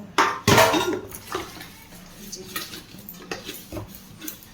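Old oil containers being handled and cleaned, with sharp metallic clinks and knocks: a loud clatter near the start, then scattered lighter clinks and taps at irregular intervals.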